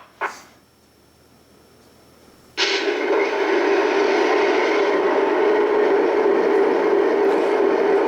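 A Lionel Southern Pacific ALCO PA model locomotive starts up: a brief click, then near-quiet, then a sudden steady loud diesel rumble and hum holding to the end.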